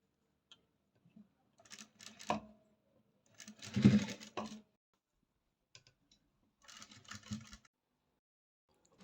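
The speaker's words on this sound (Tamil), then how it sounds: "வரிசையாக வச்சு எல்லா பூவையும் தையல் போடுங்க" Sewing machine stitching flowers onto a blouse in several short bursts of rapid mechanical clicking, separated by quiet pauses, fairly close and moderately loud.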